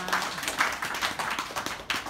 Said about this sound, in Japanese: 皆さん拍手の方どうぞよろしくお願いいたします